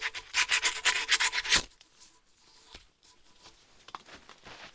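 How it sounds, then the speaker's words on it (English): Sandpaper scrubs rust off a Jaguar XJ6, XJ12 or XJS front suspension part in a quick run of close, raspy back-and-forth strokes, then stops, leaving faint handling noises. "I'm just going to clean that up a little bit with a piece of sandpaper."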